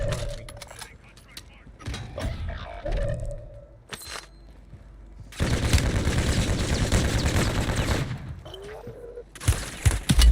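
Gunfire in the shooter game Modern Warfare 3 comes as sparse shots early, then a dense, loud burst of rapid automatic fire lasting a few seconds, with another burst at the end and bits of game audio in between.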